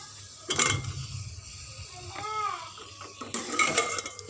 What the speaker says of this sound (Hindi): अब ये चिकन शामिल कर रही हूँ।